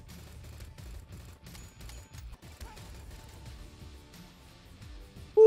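Rapid repeated gunfire from a triple-shot gun in a first-person rhythm shooter, steady bursts of muffled shots over game music for several seconds, ending in a sharp louder hit.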